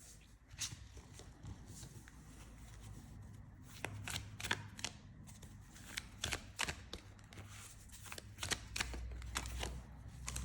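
Tarot cards are shuffled up close in a quiet room, a run of soft, rapid riffling clicks and flutters repeated in short bursts over a low background hum.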